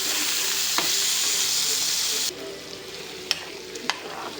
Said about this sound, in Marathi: मस्त कांदा पण परतून घ्यायचा। त्यात टाकायचा टमाटा, मस्त परतून घ्यायचा।